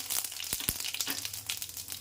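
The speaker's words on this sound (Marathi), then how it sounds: "मी एक स्पून जिरं घालून घेते जिरं छान तडतडलं आहे" Cumin seeds crackle and sizzle in hot oil in a pan, a steady close hiss broken by sharp little pops.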